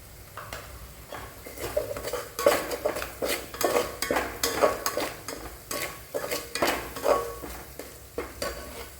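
Spatula stirring and scraping in a pan while a spiced drumstick vegetable mixture with salt is sautéed, a steady uneven rhythm of clinks and light sizzling, close and moderately loud, with no talking.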